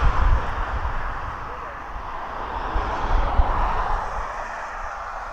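A Jet2 passenger jet flies at East Midlands Airport, a steady loud broadband engine roar with wind noise across the whole stretch, heard from a spectator position.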